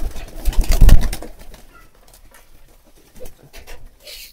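Pigeons in a farm coop at feeding time give a loud burst of wing flapping and scuffling up close, followed by quieter shuffling and a few soft coos.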